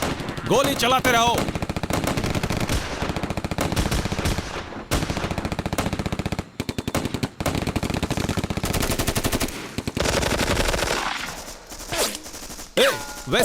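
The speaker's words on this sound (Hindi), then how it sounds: "गोली चलाते रहो।" Sustained machine gun fire rattles through a Hindi-dubbed action movie, long dense bursts of rapid shots with brief gaps, loud and close, easing toward the end before a final flurry.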